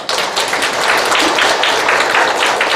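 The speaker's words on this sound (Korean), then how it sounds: "우리 박수 한번 합시다" A church congregation applauds for an elder: dense, steady clapping from many hands filling the room, with no pause.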